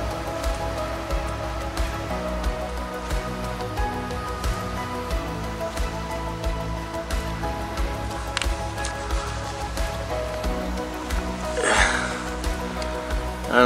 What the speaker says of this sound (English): Wind's picking up just a little bit.